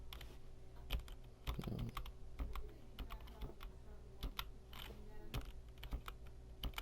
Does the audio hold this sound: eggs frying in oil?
no